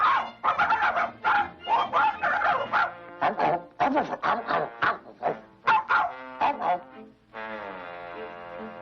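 Dog barking and yipping in quick irregular bursts close by, several excited barks in a row, then a whining, drawn-out howl at the end.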